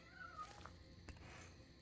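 A house cat meows faintly a couple of times in a quiet room, with no one talking.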